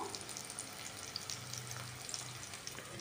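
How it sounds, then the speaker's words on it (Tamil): Garlic cloves fry in a pan for tomato chutney, giving a quiet, steady sizzle with faint crackles and no talking. "ஸோ இதுவுமே அதில் வந்து நல்லா ஃப்ரை ஆகட்டும்."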